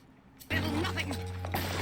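Crossbow firing incendiary bolts in a video game: a sudden loud mechanical clack and whoosh after near silence, followed by sustained whirring and crackling, then a second burst near the end.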